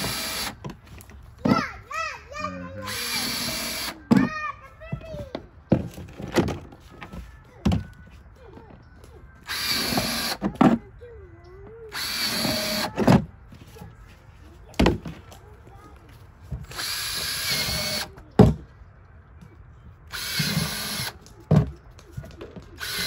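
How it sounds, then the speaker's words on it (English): Short bursts of a power drill alternate with children's voices and talking, plus a few thumps, the drilling coming in several separate spurts. "Drilling holes."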